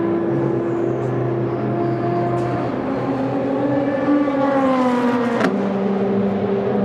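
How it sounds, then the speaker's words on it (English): Race cars at Le Mans stream past the start-finish line by the pit lane, a steady droning engine roar with rising and falling pitch sweeps as cars pass, loud and continuous with no talk. "there's a load of cars going through."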